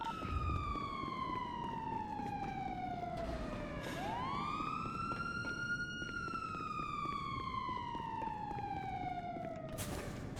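A police interceptor siren in a video game wails loud and close, sweeping down and up in long slow cycles, with a brief yelp-like switch midway, and no talk over it.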